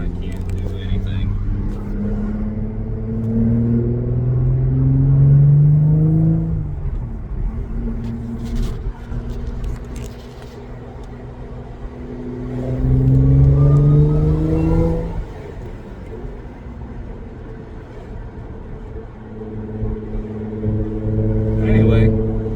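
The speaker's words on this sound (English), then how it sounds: "we are in heavy traffic right now" Engines rumble and rev up repeatedly as vehicles accelerate nearby in heavy stop-and-go traffic, heard from inside an Audi B8.5 S4, surging in waves, with a voice heard at times.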